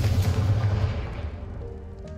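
A Confringo fire spell in Hogwarts Legacy bursts with a loud, deep boom that rumbles heavily for about a second before tapering into a fading crackling tail, with no voices over it.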